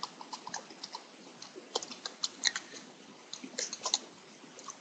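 Typing on a computer keyboard while writing small Python programs, with irregular bursts of light, close key clicks and short pauses between runs.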